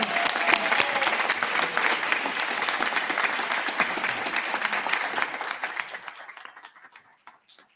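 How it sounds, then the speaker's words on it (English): Steady, dense applause from the audience at a physical therapy class white coat ceremony fills the room, then thins out and fades into scattered last claps. "Let's give them a round of applause."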